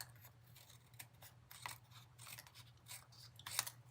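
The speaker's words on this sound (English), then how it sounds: "We'll cut off our edges, just like this." Scissors snip off paper edges while trimming a card piece in a quiet room, giving a few faint, close crisp cuts spread over a few seconds with a sharper snip near the end.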